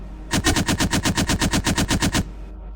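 An assault rifle in a sniper video game fires a rapid, evenly spaced burst of about fifteen loud, close shots, then stops abruptly.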